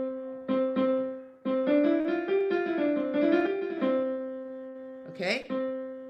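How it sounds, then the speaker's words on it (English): Middle C on a keyboard holds as a steady sustained tone through most of the passage, with a voice sounding over it and shifting pitch on top of the note. "And middle C sounds like this."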